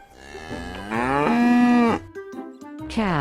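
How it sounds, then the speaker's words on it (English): A cow moos in a long, loud, drawn-out call that rises and holds steady, then drops into a few shorter lowing grunts before a second moo begins at the end, heard up close with no talk. "cow,"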